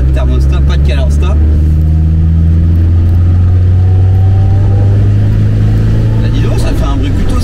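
An old car engine without a thermostat idles and revs, a loud steady low rumble close by with pitch shifts as the throttle rises and falls, while someone speaks over it.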